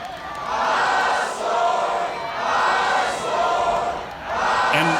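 A wrestling arena crowd in Fire Pro Wrestling World roars in loud, surging waves, swelling and dipping rhythmically like repeated jeering chants, with no other sounds over it.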